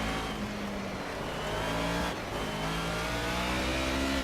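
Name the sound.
Mercedes 190E engine revving, Project CARS video game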